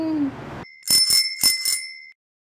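A bright notification bell sound effect rings out as four quick metallic dings with a sustained tone between them, clear and alone after a brief rustle.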